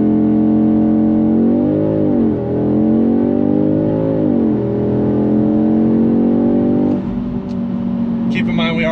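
A 2022 Audi S3 in a launch control start at high altitude, engine held at high revs then surging through rising and falling gear pulls, loud and close from inside the cabin with someone talking over it.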